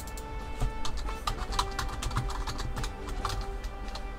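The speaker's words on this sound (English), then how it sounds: "Let's see what I'm typing in." Rapid clicking of keys typed on a computer keyboard during a Minecraft house build, a close, fairly quiet run of uneven taps without a break.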